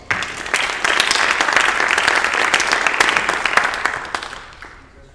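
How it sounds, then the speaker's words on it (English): An audience at a presentation gives a round of applause, a dense, even patter of many hands that swells quickly, holds steady for several seconds, then tapers off and fades. "So give him a round of applause."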